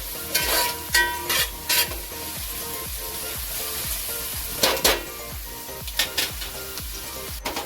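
Onions being stirred and sautéed on low heat in a pan for a dhaba-style methi malai paneer, with steady sizzling frying punctuated by repeated scraping stirs of a spoon, close and clear, no talk.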